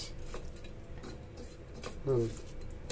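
A utensil mashes fried onion with garlic in a pan, giving soft scraping and stirring taps spread over a few seconds, with one brief louder clank near the end.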